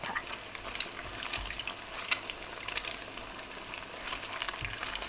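Thai oyster omelette (hoi tod) batter with eggs sizzles steadily in a hot oiled pan, a continuous crackling hiss with occasional sharper pops and light scraping clicks, close and moderately loud, with no talking.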